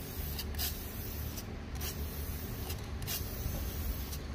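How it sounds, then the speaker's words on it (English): Aerosol spray paint hisses from a can in a short test burst before painting 370Z wheels coated in Plastic Dip, a steady close hiss running throughout with small pulses and no talking. "Let me go give it a test spray before I actually start painting these wheels"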